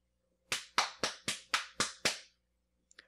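A hand smacks a thigh seven times in a quick, even rhythm to mimic applause. The slaps are sharp and close, followed by a couple of tiny faint clicks.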